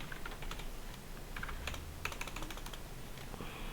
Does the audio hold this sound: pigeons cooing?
no